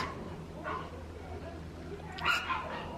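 A dog barks in the background indoors, with a couple of short yips and barks near the start and a louder burst toward the end, mixed with faint room noise and a little talking.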